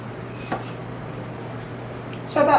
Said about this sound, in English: and then I slice them